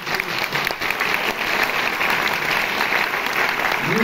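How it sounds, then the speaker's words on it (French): Audience applause fills a French cinematheque screening hall, a steady dense wash of many hands clapping at even loudness for the whole stretch, with no talk over it. "Vous pouvez même l'applaudir."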